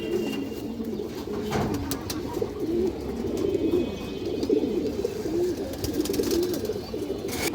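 Pigeons of a down-shape breed offered for sale produce repeated soft, throaty coos, several birds close by in a continuous low murmur over background hiss, with no talking.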